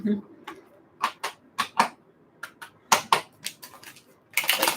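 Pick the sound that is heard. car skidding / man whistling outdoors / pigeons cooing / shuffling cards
shuffling cards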